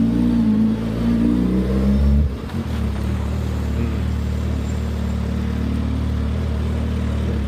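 A 2022 Suzuki Hayabusa motorcycle engine runs loud and close, revving high for about two seconds before dropping to a steady, deep idle rumble.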